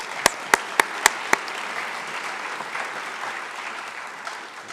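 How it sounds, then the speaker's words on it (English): Five sharp, loud claps ring out near the start at an event, followed by a wash of applause from a crowd that carries through to the end. "We're going to have a lot of clapping today"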